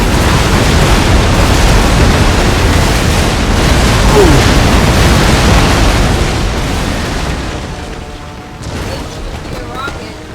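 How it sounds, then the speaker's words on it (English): Broadside cannon fire in a Napoleon: Total War naval battle, a loud, rolling wall of booming shots blending into a continuous roar that eases off toward the end, with someone talking over it. "Ooh, broadside here."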